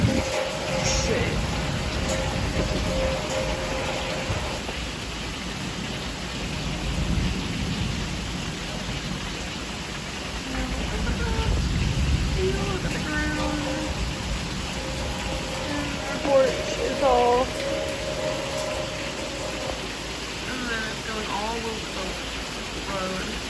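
Heavy rain falls during a thunderstorm, a steady dense hiss broken by low rumbling thunder, with people talking now and then beneath the downpour.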